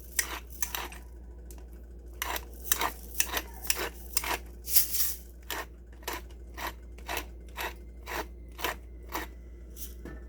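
Hungarian mushroom soup stirred in a pot, with a steady run of sharp metallic clinks and scrapes from a utensil against the pot, about one or two per second, close and fairly loud over a low background hum.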